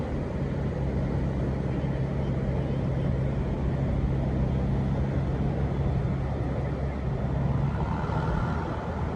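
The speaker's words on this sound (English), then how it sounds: "And that tractor's coming back out now." An RNLI lifeboat launch tractor at Blackpool drives back up the beach, a steady low engine rumble with a droning hum, continuous and fairly loud, mixed with wind and surf noise.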